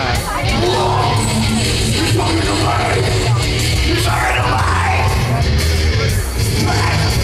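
Loud, dense festival crowd noise from the metal stage at Sziget Festival 2023 in Budapest, with screaming vocals and yells over a steady roar of music and crowd filling the whole stretch.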